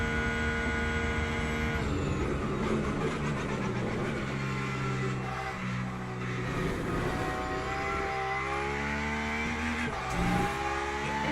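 A GTE race car engine at Le Mans in the Le Mans Ultimate racing game, a tonal whine that climbs, drops with gear changes and climbs again, steady and continuous.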